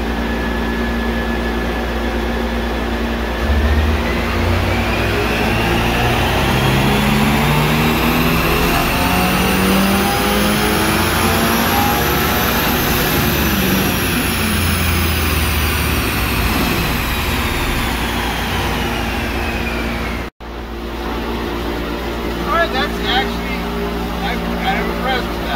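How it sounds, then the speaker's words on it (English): A Toyota GR86 climbs through a fourth-gear dyno run, its engine note rising steadily in a loud, strained whine before cutting off abruptly, followed by quieter idle and faint clatter. "So now John's gonna do another fourth gear dyno run"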